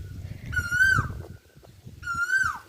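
An Asian koel calls twice from a farm field, each call a clear, rising then falling whistled note, with a short pause between them over a faint, low background rumble.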